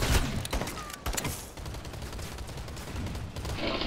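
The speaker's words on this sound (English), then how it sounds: "Shooting this guy in the face." Video game gunfire: rapid bursts of shots and fusillade-like automatic fire, fairly busy and continuous over a few seconds, moderately loud with a rumbling background.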